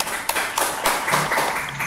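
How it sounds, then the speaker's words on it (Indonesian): A classroom group applauds the students' answers: a short, close burst of uneven hand clapping from several people, lasting under two seconds. "ada baiknya kita aplaus dulu untuk semua jawaban kita"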